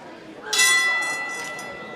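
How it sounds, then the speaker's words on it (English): A ring bell sounds to open a wrestling match, a single bright metallic strike with a long ringing decay, heard over arena crowd noise. "As the bell officially sounds"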